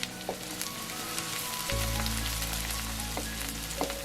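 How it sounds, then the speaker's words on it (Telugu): Sliced onions and curry leaves sizzle steadily in hot oil for chicken biryani, a close, continuous frying hiss that swells louder partway through, with a few faint clinks and no talking. "ఇందులో వేసి ఒక 1 మినిట్ ఇలా ఫ్రై చేశాక కరివేపాకు కొద్దిగా వేసి అది కూడా ఫ్రై చేయాలి"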